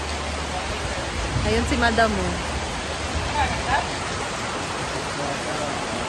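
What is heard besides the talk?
rain falling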